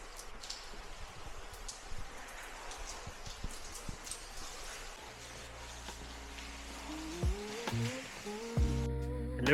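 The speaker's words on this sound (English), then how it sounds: "It only just started raining now" Light rain patters on an outdoor walk through Dubrovnik in winter, a faint, diffuse hiss with scattered drips. Near the end, a passing car and some squeaky higher-pitched tones rise above it.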